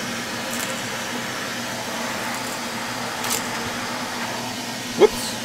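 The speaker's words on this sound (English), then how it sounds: "Vacuum off my bandsaw a little bit." Shop vacuum cleaning sawdust off a bandsaw, a steady broadband suction whoosh with a constant low hum running throughout, plus a brief sharp clatter near the end as something gets sucked up.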